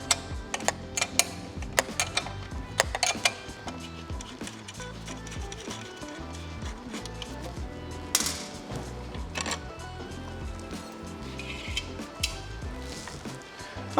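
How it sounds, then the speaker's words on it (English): Two 10mm wrenches loosening the tail light bracket on an SG250 motorcycle, giving a run of close, quiet metallic ticks and ratcheting clicks with scattered sharper taps throughout. "Now I can use the two 10mm wrenches to loosen the bracket."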